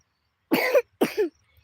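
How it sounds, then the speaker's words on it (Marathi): Two sharp coughs in quick succession, close and clear, with silence before and after. "खोकला झालाय ना"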